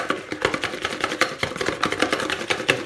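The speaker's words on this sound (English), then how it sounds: "whisk our egg yolks" Egg yolks being whisked for key lime pie filling, a quick steady run of light wire-on-bowl strokes, close and fairly loud, with no talking.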